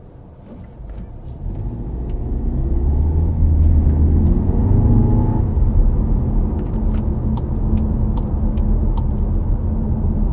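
A 2021 VW Arteon Shooting Brake 2.0 TSI engine hums and rumbles steadily while driving, a low continuous drone that swells slightly as it accelerates, with faint road noise.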